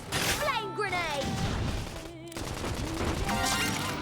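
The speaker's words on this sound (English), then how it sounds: "Flame grenade" A flame grenade attack in the game Xenoblade Chronicles X bursts out as a loud barrage of explosive bangs and crackling impacts, layered with battle effects and character voices throughout.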